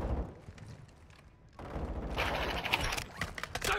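Gunfire in Call of Duty: Modern Warfare II, starting as a quiet rumble and then breaking into dense rapid bursts of automatic fire and impacts that continue to the end.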